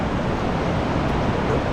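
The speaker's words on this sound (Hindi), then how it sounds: "और ये नदी देखो, नदी का इतना शोर है, और ये जो झरना है ना," Mountain river rushing beside a waterfall at a Himalayan temple in Uttarakhand, a loud continuous broadband roar of water with no break, filling the whole moment.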